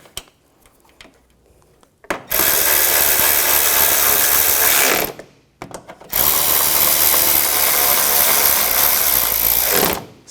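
A power tool on a 2004-2009 Audi A4 Quattro runs in two loud, sustained bursts of about three and four seconds each, close by, with a short pause between and quiet handling noises before.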